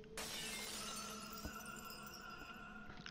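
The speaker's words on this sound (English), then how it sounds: "Shatters the blue glass." Blue glass shattering in the video game Child of Light: a sudden bright crash followed by a long ringing, tinkling decay with a soft thud midway, alone and without talk.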